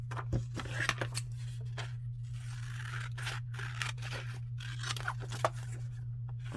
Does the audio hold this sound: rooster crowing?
no